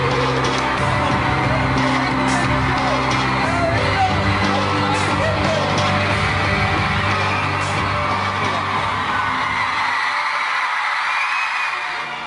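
A 10,000-strong concert crowd screams and cheers continuously as the band take the stage, a loud, dense wall of yelling and whooping that holds steady before easing slightly at the end.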